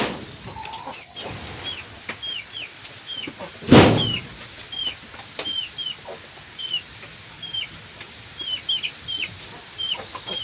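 Aseel chickens cluck and chirp repeatedly inside their coop, with one brief louder burst of noise partway through.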